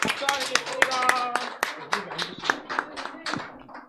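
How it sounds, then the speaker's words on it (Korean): Congregation applause at a Korean Baptist church elder ordination service in Daejeon, a dense burst of clapping that swells, then thins into scattered claps as it fades, with voices mixed in. "박수 한 번만 더 하도록 하겠습니다."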